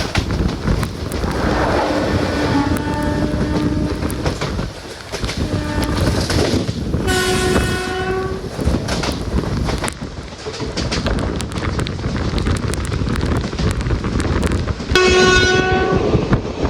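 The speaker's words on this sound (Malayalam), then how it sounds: "ലോക്കോ പൈലറ്റ് ഒരേ ഹോണടി." A Kollam–Chennai Mail locomotive sounds its horn in repeated long blasts, loud and close, over steady rumbling and clattering of the moving train, with a final blast near the end.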